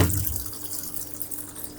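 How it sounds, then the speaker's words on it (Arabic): A Toshiba 8 kg top-load automatic washing machine draws in water: a steady, close rush of flowing water into the drum, loud at first and then holding level with no talk. "تبدا تسحب معانا ميه"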